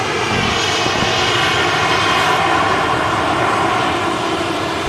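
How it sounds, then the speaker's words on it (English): An EasyJet Airbus A320 landing at Manchester Airport, a loud, continuous jet roar with a broad rushing hiss that holds steady throughout. "Yep, this EasyJet is an A320 from Copenhagen."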